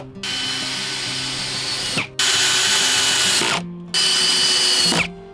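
A power drill drives screws into joined wooden countertop boards, three long whirring runs, each cut off by a short pause, loud and close with no talking.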